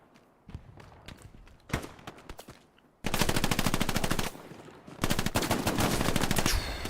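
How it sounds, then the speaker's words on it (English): Rapid bursts of Thompson submachine gun fire in a multiplayer war game, starting with scattered distant shots and footsteps, then two long, loud, sustained automatic volleys close by. "Loses the fight against the Thompson."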